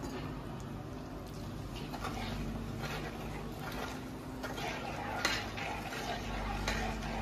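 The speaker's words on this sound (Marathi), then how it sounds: "आता आपण जे उकळून गरम केलेले तेल आहे ते आपण ह्या मसाल्यामध्ये मिक्स करून घेऊ।" A spoon stirs boiled hot oil into a spice mix for Maharashtrian turmeric and chilli pickle, giving faint, steady scraping and clinking against a pot.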